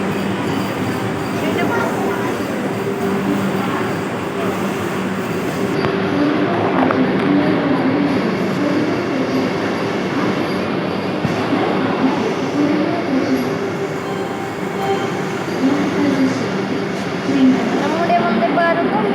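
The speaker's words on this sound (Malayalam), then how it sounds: "ഇതാണ് വന്ദേ ഭാരതം." Vande Bharat Express train on the rails, a continuous close rumble of rolling cars with a steady hum, while a person talks over it throughout.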